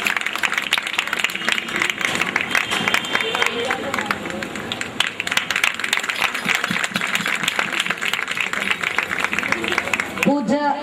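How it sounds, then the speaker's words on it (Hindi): An audience at an annual school function claps in welcome, a dense, continuous wash of many hands applauding with voices mixed in throughout. "सब ताली बजा के स्वागत करेंगे।"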